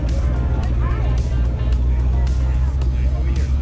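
A vet-owned 1933 green car with ghost flames pulls out at a car show, its engine giving a steady, deep, throaty rumble that carries on throughout while someone talks over it.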